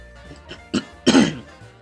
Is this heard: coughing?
yes